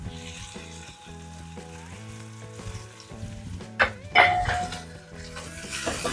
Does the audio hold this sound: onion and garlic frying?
yes